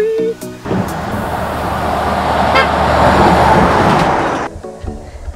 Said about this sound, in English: the scary part is when a truck comes and this whole highway shakes